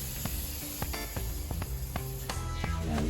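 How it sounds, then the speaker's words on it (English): Product is sprayed steadily onto lounge chair upholstery, a continuous close hiss broken by a few faint clicks and taps, with no one speaking. "So we're just going to keep spraying this."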